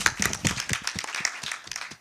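Audience clapping at a commemoration of the tenth anniversary of a constitution's promulgation, a brief burst of close, uneven hand claps with no voices.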